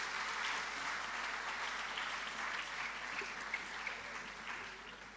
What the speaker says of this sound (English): could we give the participants of Deeds of Dashu a huge round of applause?